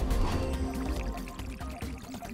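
Water pours and gurgles steadily in the video game Puddle, a continuous liquid flow sound alone without speech, loud and close, with bubbling, wavering tones throughout.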